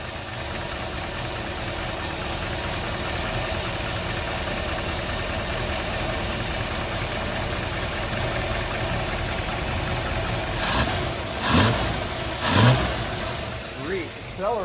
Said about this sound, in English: That's a quiet motor.